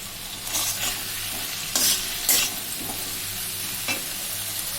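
Fried eggs and potatoes sizzle loudly in a spiced masala with chilli powder and tomato sauce, a steady close frying hiss broken by several scraping stirs.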